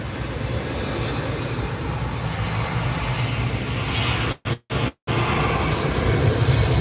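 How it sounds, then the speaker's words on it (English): Aircraft engines roar loudly and steadily near a busy airport, a continuous broad drone that briefly cuts out twice before resuming. "A lot of airplanes. It's one of the busiest airports, man."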